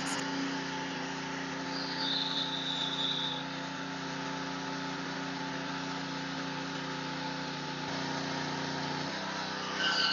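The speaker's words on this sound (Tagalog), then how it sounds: "Ngayon, sasabayin natin yung pag-welding at saka itong grinder." An angle grinder runs steadily alongside welding, both powered by an inverter generator, making a continuous loud mechanical whine with a slight shift in tone near the end.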